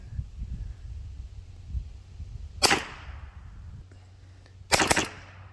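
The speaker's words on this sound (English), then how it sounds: "it's definitely okay to pop off some rounds in rapid succession" A Huben GK1 .25 caliber airgun fires two sharp, loud cracks a couple of seconds apart, with quiet low rumble and faint movement between shots.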